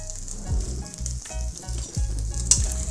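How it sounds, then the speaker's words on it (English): Smoked prosciutto sizzles in a hot pan on its way to browning and crisping, a steady close frying hiss with soft rhythmic bumps as the meat is moved about. "into that hot pan, I'm adding my smoked prosciutto"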